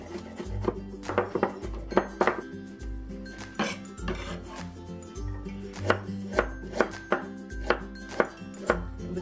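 Quick bursts of a knife chopping on a cutting board: garlic being minced in rapid, rhythmic thuds and clicks, close and fairly loud, with short pauses between runs and no talking.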